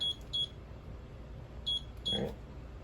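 Timer buttons on the oven of a 2021 Avenger 26BK RV give short electronic beeps, several brief chirps spaced irregularly over a quiet background.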